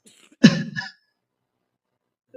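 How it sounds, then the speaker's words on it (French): One short, rough cough right up close, a quick harsh burst that fades into silence. "Je m'excuse car je tousse un peu"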